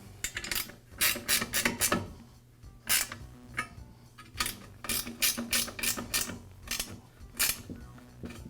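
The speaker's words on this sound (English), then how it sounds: "I'll just go ahead and tighten this bracket up with the bolts" A ratchet tightens the bracket bolts on an MK Diamond tile saw, giving close, repeated bursts of quick clicking strokes with short pauses between them.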